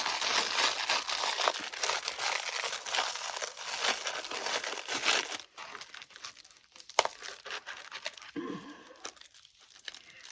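Chinese calligraphy paper crinkles and rustles as it is handled close by, a dense, continuous crumpling that gives way to sparser, quieter crackles and a few sharper rustles.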